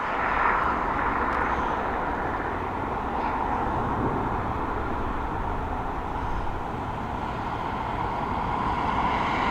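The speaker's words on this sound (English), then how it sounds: "Our next departure is going to be heading over to Paris." Transavia Boeing 737 departing Dublin Airport, a steady broadband jet roar held at a constant loud level throughout, rumbling from a distance with no voices.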